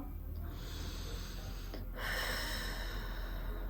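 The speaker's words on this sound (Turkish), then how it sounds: "Burundan nefes al." A slow, audible breath drawn in through the nose, soft and close, over a steady low background hum.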